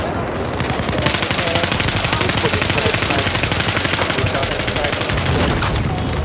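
Gunfire in the video game Battlefield 4 during a Conquest match, a dense run of rapid automatic shots, loud and sustained, with nobody talking.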